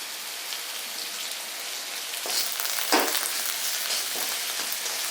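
Curry leaves crackle in hot oil along with puffed rice, a dense hiss of sizzling with a sharp pop and burst of spitting partway through, and a few smaller crackles after.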